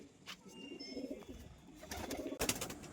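Pigeons in a loft coo softly in low, rounded murmurs that rise and fall in short bursts, heard up close over faint background noise, with a couple of sharp clicks or flutters near the end.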